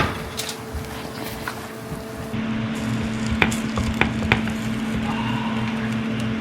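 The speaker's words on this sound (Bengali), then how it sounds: "তন্দুরি স্যামনটা একদম টকবক করে ফুটছে" Tandoori salmon sizzling and bubbling in a hot pan, a steady close frying hiss with scattered crackles and pops, growing a little louder partway through.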